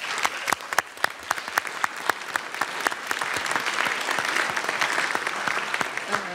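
Sustained applause from an audience of students at a career panel event, dense and steady with sharp individual claps standing out, filling the room for several seconds.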